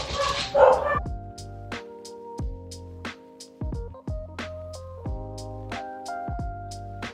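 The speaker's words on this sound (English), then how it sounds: "Oh my God, my frickin' dog." A pet dog barks and yips repeatedly in a home, about a dozen sharp, fairly loud barks in an uneven rhythm over several seconds, with a brief rustling noise at the start.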